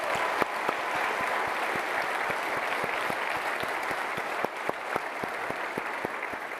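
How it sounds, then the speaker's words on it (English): An audience at the ICC 2025 keynote applauds award winners, a sustained crowd of clapping with sharper individual claps standing out near the listener, continuing throughout without speech. "big round of applause"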